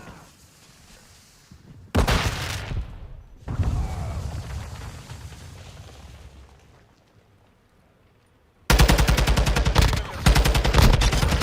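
Gunfire in Call of Duty Modern Warfare II comes in loud bursts of rapid automatic shots and blasts, separated by quieter stretches of low rumble, all close and intense.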